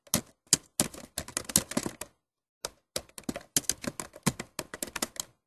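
Someone types on a computer keyboard in irregular bursts of crisp clicking keystrokes, with a short pause midway, close and fairly quiet with no talking.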